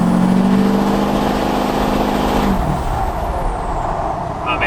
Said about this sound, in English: Give it a little gas for you guys here so you remember what she sounds like.